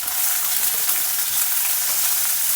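Green chillies, split lengthwise, and a sliced onion stir frying together in a pan, giving a steady, loud, close-up sizzle with no talking over it.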